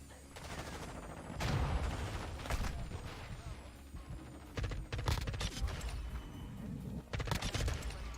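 Gunfire from the video game Modern Warfare 2 during a Domination match, with bursts of shots at intervals among sharp impacts and busy game noise.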